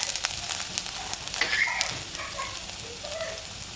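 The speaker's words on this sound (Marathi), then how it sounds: "आता कडकडीत तापलंय कडकडीत तेल तापलंय त्यामध्ये आपण लसूण" Garlic and ginger drop into very hot oil and sizzle steadily, a close, bright crackling hiss with a few louder spits and pops, continuing without any talk.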